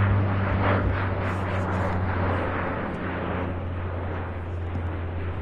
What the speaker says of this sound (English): Can't get that high, but we have the C-130.